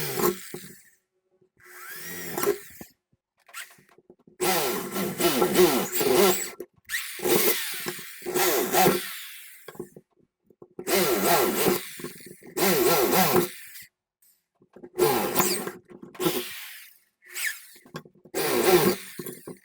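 A power drill bores a hole to pass a metal rod through the center of a homemade HD TV antenna, running in several loud bursts of a few seconds each, separated by short pauses, with no talking.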